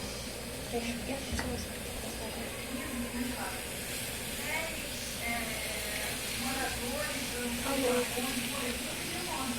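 Seawater boils during an evaporation experiment, giving a steady, close hiss of escaping steam with faint bubbling that runs continuously beneath people talking.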